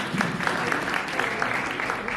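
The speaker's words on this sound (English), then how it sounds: "Let's give her a round of applause." A short round of applause for a panelist at a business finance panel event, steady dense clapping from an audience with a bit of background murmur.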